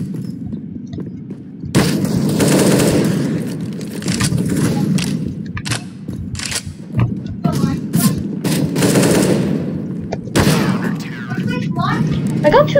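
AK rifle fire in the shooter game CS:GO, rapid bursts and single shots cracking sharply one after another in uneven clusters, with a player talking excitedly over the gameplay.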